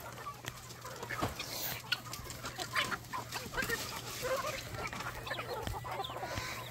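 Free-range chickens and guinea fowl on a farm, with clucking and calls scattered through steady outdoor noise and a low hum, birds at moderate distance.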